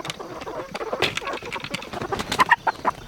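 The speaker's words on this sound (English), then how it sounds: "these are our worker chickens." Chickens cluck intermittently nearby, soft scattered calls with a few sharper peeps toward the end.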